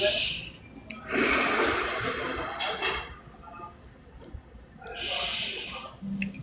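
Slow, deliberate breaths during a guided meditation session, with soft airy inhales and exhales swelling in two long passes and a short puff near the end, quiet and close in an otherwise still room.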